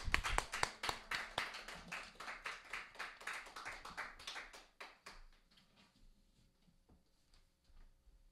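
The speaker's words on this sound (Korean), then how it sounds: "우리 환영의 박수 한번 치겠습니다." A church congregation at a Sunday afternoon service claps in welcome for a pastor, a brisk run of rhythmic handclaps that thins out and fades to a few scattered claps.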